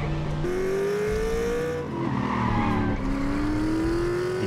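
A car in The Saboteur tears along at high speed, its engine whining steadily upward and tires squealing, loud and continuous throughout with a brief dip as it shifts.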